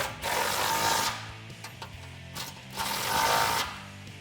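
Close ratchet clicking as a 21mm socket tightens bolts on a Barricade HD rear bumper fitted to a Jeep Wrangler JL, in two loud bursts with a quieter stretch between them.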